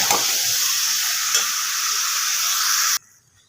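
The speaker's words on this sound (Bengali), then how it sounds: "মাংসগুলোকে একটু ভালোভাবে ফ্রাই করে নেব" Chicken pieces frying in a pan give a loud, continuous hissing sizzle with faint stirring, heard close up, then cutting off abruptly near the end to near silence.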